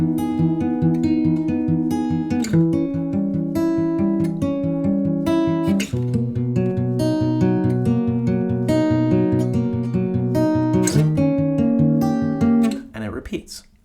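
An acoustic guitar plays a steady fingerpicked pattern through the verse chord progression of a song, close and clear, with regular plucked notes and chord changes, heard alone until it rings out at the end.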